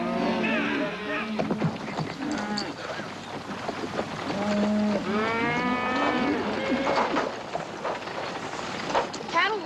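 A herd of cattle moos repeatedly, the long drawn-out calls overlapping against a steady background of outdoor noise.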